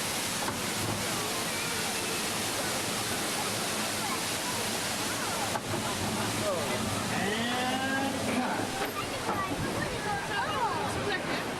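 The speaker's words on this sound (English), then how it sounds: "Water's coming in!" A roaring rush of simulated floodwater on the Earthquake ride at Universal Studios Hollywood pours continuously, loud and close, with voices shouting faintly underneath and a surging swell toward the end.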